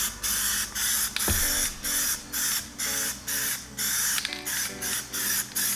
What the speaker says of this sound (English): a nice mist, nothing too crazy